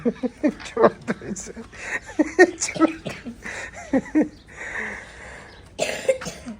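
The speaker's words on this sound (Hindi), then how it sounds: "खांसी लगी हुई है आज" A person coughs several times in short, harsh bursts, mixed with speech and throat clearing, close to the listener.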